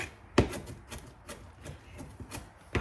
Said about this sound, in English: Just basically chopping it up.